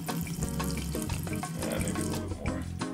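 About a quarter cup of water runs from a tap while making a peanut and raisin cookie mix, a steady splashing pour with clinks and knocks of kitchen handling through it, fairly close and moderately loud.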